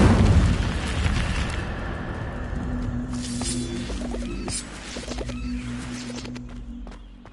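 Hogwarts Legacy Incendio fire spell bursting loudly up close, a roaring whoosh of flame that fades and crackles down over several seconds, with small pops and rumbles trailing.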